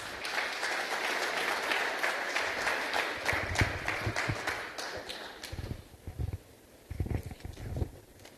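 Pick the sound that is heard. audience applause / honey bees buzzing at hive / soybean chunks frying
audience applause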